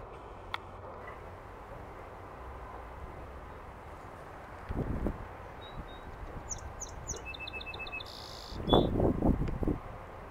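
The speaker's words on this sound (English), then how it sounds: "The sumac shrubbery is full of sparrows." Sparrows chirp from dense sumac shrubbery outdoors, one bird singing brief high trills and several faint tweets over a steady wind-like background, with a couple of louder rustling bursts nearby.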